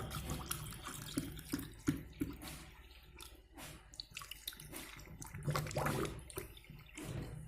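Cold water being poured into a clay pot for raw mango sherbet, a splashing, gurgling stream that runs unevenly for several seconds with a few brief surges and drips.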